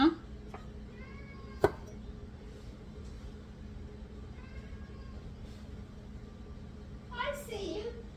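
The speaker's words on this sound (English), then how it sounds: "I got a very insecure cat." Pet cat Taffy meowing indoors, a few soft, short meows spread over several seconds against a steady low background hum, with a person talking nearby.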